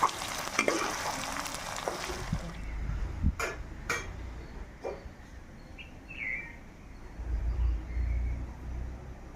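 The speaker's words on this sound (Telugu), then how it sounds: "ఈ అల్లం చిన్నులపాయ పేస్ట్ కూడా బాగా ఫ్రై అవ్వాలండి" Ginger garlic paste frying in a pan for chicken pickle, a broad crackling sizzle with a few sharp knocks of the spoon, faint birds chirping outdoors behind it.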